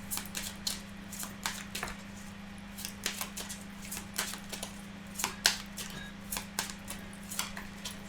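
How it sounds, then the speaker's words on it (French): Oracle cards being shuffled by hand, a series of close, crisp flicks and soft snaps in an irregular rhythm over a steady low hum. "je vais remélanger un petit peu les cartes"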